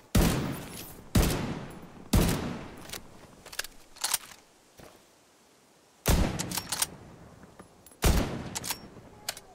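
Heavy gunshots from The Division 2 ring out in sharp, loud volleys, several bursts separated by brief quieter gaps, with no talking.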